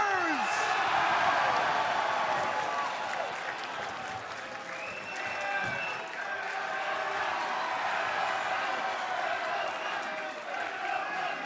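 A wrestling arena crowd roars and cheers continuously, a dense wash of applause and shouting, with an announcer talking over it.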